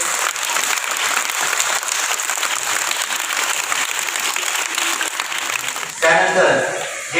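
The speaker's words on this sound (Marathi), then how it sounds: "जोरदार टाळ्या झाल्या पाहिजे।" Audience applause during a welcome with a flower bouquet at a ceremony, sustained even clapping for about six seconds before a voice comes in over it.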